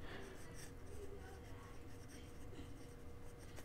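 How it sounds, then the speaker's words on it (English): Yookers Yooth refillable fiber tip pen filled with fountain pen ink, writing on paper with soft continuous scratchy strokes, faint and close. "just gonna put the body back on, and we'll do a little bit of writing"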